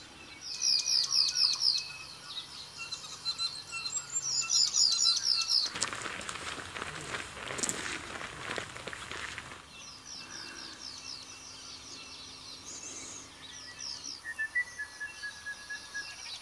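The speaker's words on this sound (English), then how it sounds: "You're hearing the dawn chorus. That loud one is the whitehead." Dawn chorus of New Zealand birds, with a loud whitehead calling in bright repeated chirping phrases over quieter distant song, broken midway by a burst of rustling noise.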